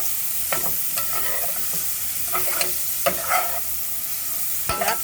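Onions, garlic and peppers frying in a pan, a soft steady sizzle broken by several scraping stirs, close by and with no voices.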